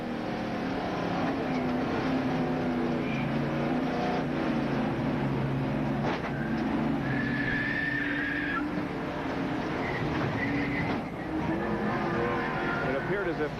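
A NASCAR stock car at the 1987 Winston 500 at Talladega: a loud, continuous engine roar from inside the car with rising and falling whine and a few sharp knocks, with voices talking underneath.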